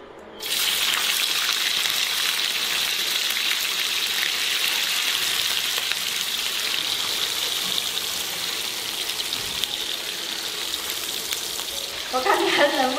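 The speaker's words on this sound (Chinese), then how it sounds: "豆腐先下去煎一下。" Tofu pan-frying in hot oil in a home kitchen, a steady loud sizzle that runs nearly the whole time and flares briefly near the end.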